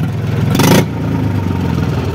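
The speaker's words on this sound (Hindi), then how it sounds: "बहुत ही ज़्यादा आवाज़ आ रही है, मतलब कि जैसे हरियाणा पंजाब में ट्रैक्टर की आवाज़ चेंज करता है वैसे" Mahindra 275 tractor engine running with its silencer removed, a loud, raw, close mid-pitched clatter with a steady pulsing beat and a brief sharp surge of noise partway through, then back to a rough idle.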